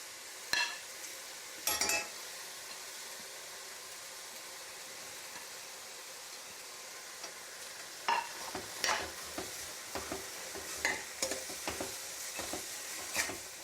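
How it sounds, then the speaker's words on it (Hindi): Tomato and cabbage being stirred and fried in a pan, a faint soft sizzle underneath with scraping and clinking stir strokes that come sparse at first and then bunch into a busy run near the end. "इसके साथ ही मैं एक कैबेज डाल दूंगी, क्योंकि ये साथ साथ में ही इसके साथ भून जाता है टमाटर भी"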